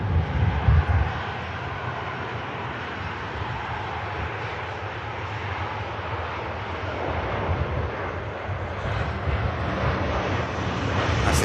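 Ryanair airliner taxiing at Manchester Airport, a continuous low engine rumble and whine from some distance, steady with a slight rise toward the end and light wind noise.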